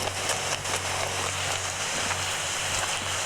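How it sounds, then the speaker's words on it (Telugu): Heavy rain falling at night in the Indian Bike Driving 3D video game, a steady dense hiss of rain on surfaces with a low constant hum underneath, continuous and fairly even throughout, with no talking. "చాలా వర్షం అయితే పడుతుంది అనమాట"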